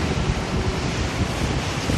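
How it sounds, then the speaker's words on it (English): Pacific Ocean waves wash against a long river-mouth jetty while wind buffets the microphone, a steady loud roar of surf and gusts with no voices. "we're on the jetty of the Suslas River and the Pacific Ocean"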